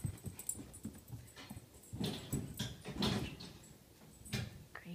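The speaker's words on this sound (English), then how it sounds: "Crazy dogs." Excited dogs indoors whimper and let out short barks amid shuffling, panting and a door sliding, all fairly quiet and close-up with no talking.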